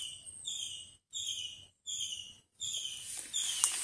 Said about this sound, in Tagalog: Yan si ibon sa ingay.